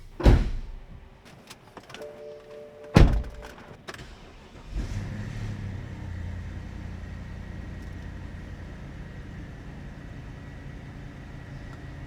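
A car door thumps and a Porsche Cayenne's engine cranks and catches, then settles into a low, steady idle hum that continues smoothly.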